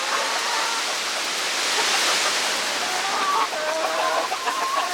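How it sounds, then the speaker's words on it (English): Backyard chickens clucking near a homemade nesting box, soft repeated clucks under a steady loud rush of broadband noise, with no talking. "Nope, you're bad chickens."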